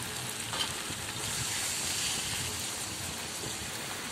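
Mutton masala frying in a pan for a festive meat curry, with water added, giving a steady, close broadband sizzle that swells slightly midway and carries on evenly without speech.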